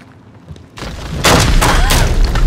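Explosion upstairs in the horror video game Until Dawn: a quiet lead-in, then a sudden heavy boom that swells into a loud, rumbling roar with crackling bursts, sustained to the end.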